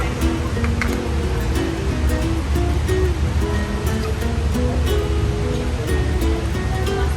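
Water flushes in a steady, loud, continuous rush while a drain is cleaned, with faint clicks and knocks scattered through it.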